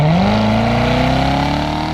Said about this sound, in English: Every time you hear the sound of the exhaust coming out of the quad pipes